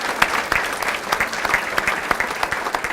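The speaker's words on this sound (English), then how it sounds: "Okay, I'm applauding." A modest audience claps at a nonprofit funding event, with steady close patter and a few sharper individual claps standing out, no talk over it.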